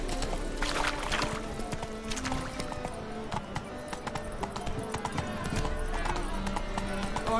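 Horse hooves gallop in The Witcher 3 video game, a rapid, continuous clip-clop of hoofbeats on the ground over a busy background, with a rider's mount running steadily throughout.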